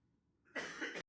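A single sharp human cough, close and brief, bursting out of near silence and stopping abruptly.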